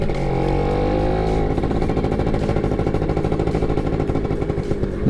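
A Yamaha F1ZR two-stroke motorcycle engine runs close and loud in a steady, buzzing rev with a fast throbbing pulse throughout, and no talk is heard.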